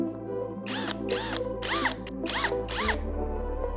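Up close, a 5 mm drill bit cuts holes in a homemade hydrogen generator part, giving five short whirring bursts over a steady motor hum that shifts pitch near the end.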